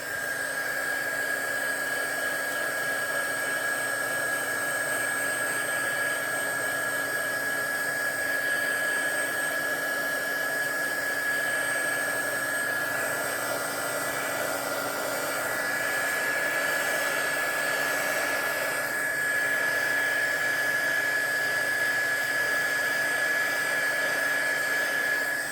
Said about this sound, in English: I almost think I need to put a little bit more heat. Get out the heat gun.